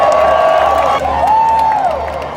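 A rally crowd awaiting the president, heard as a loud, continuous swell of cheering voices with a high tone sliding across it midway, sustained throughout.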